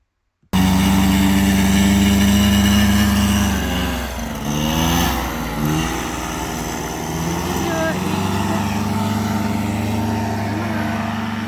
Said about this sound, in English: This is my first flight with this new motor, and the thrust is just incredible.